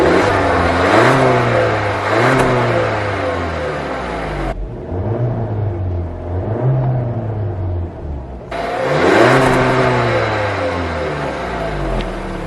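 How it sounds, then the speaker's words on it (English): An Audi Q3 engine revved repeatedly toward its soft limiter in an empty car park, rising and falling bursts of engine sound close by, with a quieter stretch of rev cycles in the middle and no talking. "I'm gonna give the car a start up, give you some revs, because we're in an empty car park anyway"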